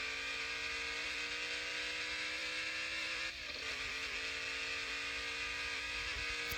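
A speed buggy in the Off-Road Outlaws racing game gives off a faint, steady engine drone at high speed, a constant whine with a brief dip partway through.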